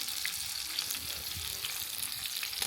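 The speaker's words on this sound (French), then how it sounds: "il y a du petit poisson qui se cuit juste ici" Small fish frying in a pan over a wood fire, heard as a steady, moderately faint sizzle with fine crackling throughout the short stretch and no voices.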